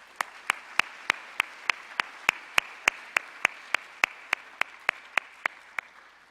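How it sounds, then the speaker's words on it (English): At a talk-style event, a run of about twenty sharp, evenly spaced claps beats out a steady rhythm, each clap crisp and distinct over a quiet room. "so because of Debbie Lamb and the East Lab, I'd like to give them a round of applause, if you don't mind."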